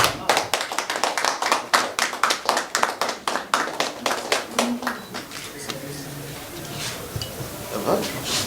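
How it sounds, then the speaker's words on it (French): A small crowd of party supporters at a gathering in Limete, Kinshasa claps in quick, rhythmic bursts that fade after about five seconds into scattered voices and background murmur. "On peut applaudir, hein, nous."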